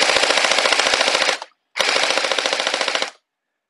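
A gel blaster fires Ausgel Ultra Elite hardened gel beads in two long full-auto bursts of rapid, evenly spaced, loud cracks, separated by a brief pause.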